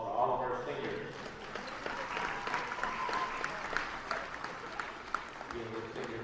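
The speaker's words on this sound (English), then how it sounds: "Give another round of applause for all of our seniors." A high school volleyball crowd in a gym applauds the seniors, warm continuous clapping with scattered cheers and a voice talking over the crowd throughout.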